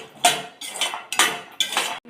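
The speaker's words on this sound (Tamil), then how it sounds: "இப்போ நம்ம பாதாம் வந்து ஒரு லைட்டாக வறுக்கும். எண்ணெய் இல்லாமல் ட்ரையாக கடாயிடும்." Almonds dry-roasting in a kadai without oil, stirred so they rattle and scrape against the metal pan in four short bursts about half a second apart, close and fairly clear.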